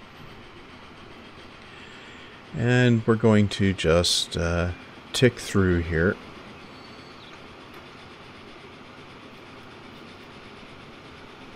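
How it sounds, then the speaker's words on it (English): A long train rolls through a station in Transport Fever 2, a steady low rumble that carries through the whole clip, with someone talking over it in the middle. "this is a long train."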